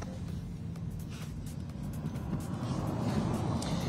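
Trucks and a few cars crossing a reopened mountain border pass to Chile, a steady low engine rumble of heavy vehicles that grows louder as traffic draws nearer.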